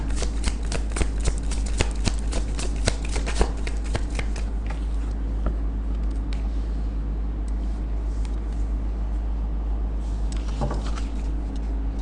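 Tarot cards being shuffled by hand, a dense, close run of crisp riffling flutters over a steady low hum, busiest at first and thinning out to sparse soft flicks.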